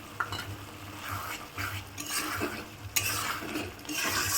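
A spoon stirs tarka curry mixed with fried spice mix in a pan, with repeated scraping strokes and light sizzling, close and clear with no talk.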